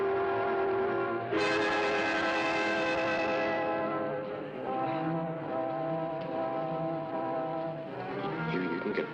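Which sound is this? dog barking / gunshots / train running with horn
train running with horn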